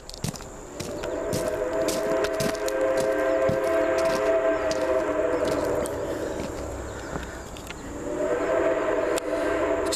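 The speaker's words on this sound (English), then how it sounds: "Just listen to that whistle." A train whistle sounds from the approaching 425 at Port Clinton, loud, sustained blasts that run nearly throughout, dip briefly, then rise again near the end over a steady rail rumble.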